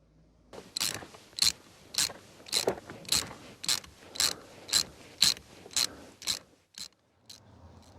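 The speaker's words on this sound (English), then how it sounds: "To undo those bolts, we'll need another socket, specifically a 7mm." A 7mm socket ratchet loosens the cabin filter lid bolts on a Ford Focus Mk2, ticking close-up in about a dozen evenly spaced, crisp clicks followed by a few slower ones.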